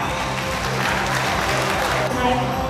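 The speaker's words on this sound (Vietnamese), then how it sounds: "Xin quý vị dành cho tất cả tân hoa hậu chúng ta một tràng pháo tay thật lớn nha" Audience applause for newly crowned winners at the Vietnam Beauty International Pageant 2016, a steady wash of clapping with crowd murmur and music underneath, fairly loud throughout.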